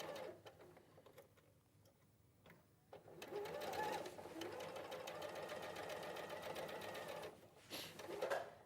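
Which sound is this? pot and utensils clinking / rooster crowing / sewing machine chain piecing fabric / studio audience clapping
sewing machine chain piecing fabric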